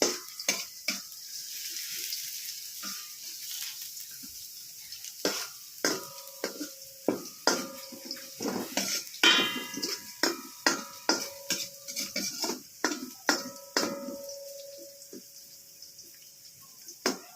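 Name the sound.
stirring garlic and ginger frying in a pan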